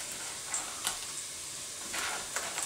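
Onions caramelizing in a pan give off a soft, steady sizzle with a few brief stirring scrapes, close by but fairly quiet, with no talking.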